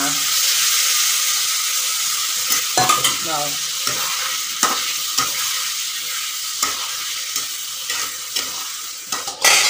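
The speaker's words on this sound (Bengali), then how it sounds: "তো এখানে নাড়ানো ঠাড়ানো চলছে। তো আসলে এটা কষিয়ে নিচ্ছি।" Spices being sautéed and stirred in a pan for a potato curry, a continuous sizzling hiss broken by repeated scraping strokes of a spatula against the pan, close and loud, with no one speaking.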